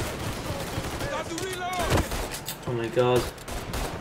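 M14 rifle fire in Mafia 3, a burst of loud gunshots going off around a startled voice, with a second dense volley near the end amid game sounds.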